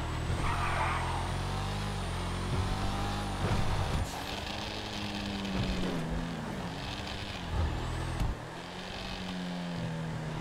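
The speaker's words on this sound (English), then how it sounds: "the deceleration, the gargle you hear, the crackling, just sounds incredible" Verlierer sports car in GTA 5 Online, its engine droning loudly and steadily with pitch sweeps as it revs up and lets off, close and continuous with no talk.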